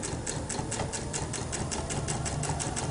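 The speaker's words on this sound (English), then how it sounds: "I've sewed all the way around now" Sewing machine stitching around a charm pack fabric coaster, a steady rapid mechanical chatter of the needle running continuously at close range.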